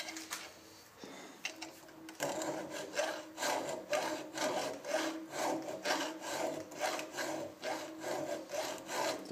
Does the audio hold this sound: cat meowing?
no